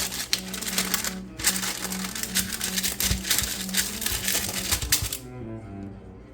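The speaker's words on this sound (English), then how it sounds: "Then I very scientifically struggled to put the parchment in the loaf pan." Culinary parchment paper crinkling and crackling as it is pressed into a loaf pan for banana bread, a dense close run of rustles and crunches lasting about five seconds before falling quiet.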